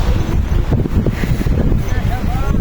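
Strong wind gusts roar across a mountain trail, a steady loud buffeting that rumbles against the microphone throughout, with voices faintly mixed in.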